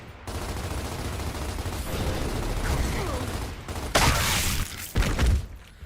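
Gunfire in the Gears of War video game: a sustained rattle of rapid shots, then louder bursts of close firing near the end.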